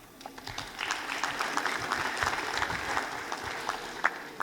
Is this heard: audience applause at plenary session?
yes